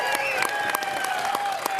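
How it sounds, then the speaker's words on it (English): Audience applause at the Bathurst 1000 pitlane evening for an honoured six-time champion, a crowd clapping with sharp individual claps and cheers over a steady bed of sustained tones. "A round of applause."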